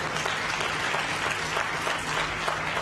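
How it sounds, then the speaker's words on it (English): Sustained audience applause fills a hall at the NSSF annual members' meeting, a dense, steady wash of many hands clapping at even loudness throughout, with no voices over it. "You can clap for yourselves once more."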